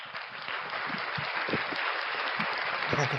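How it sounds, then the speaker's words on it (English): A room full of people applauds in a steady, moderately loud patter that holds for a few seconds, with a few voices calling out over it. "Round of applause for that awesomeness."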